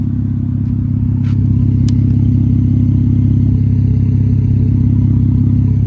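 A straight-piped Infiniti Q50 idling close by, a loud, steady, deep burbling rumble that holds constant throughout with no revving and no voices.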